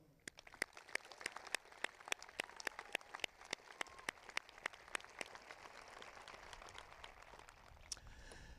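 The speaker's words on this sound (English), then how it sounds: "Let's please give a round of applause for all of our graduates here and around the world." Audience at a May 2018 university commencement ceremony applauds the graduates with scattered, crisp individual claps over a steady, moderately distant wash of clapping that thins out toward the end.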